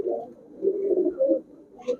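High flyer pigeons coo softly nearby in a shop, with low throaty rolling calls repeating in short bursts.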